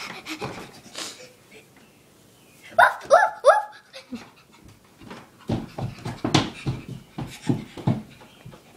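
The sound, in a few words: children imitating dogs panting and whimpering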